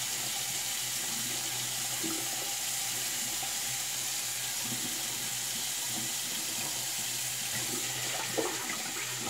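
Cold water from a bathroom tap runs in a steady, even hiss for several seconds while a razor blade is rinsed under it, with faint small knocks near the end.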